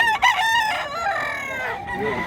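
A rooster crows loudly and close at a chicken farm in Mantalungon, Barili, Cebu, one long harmonic call sweeping up and falling away over about two seconds.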